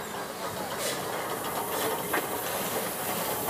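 A 1922 Hitachi-built steam locomotive, a light passenger engine at Hitoyoshi, Kyushu, gives off a steady, loud hiss of steam that continues throughout with a few faint clanks.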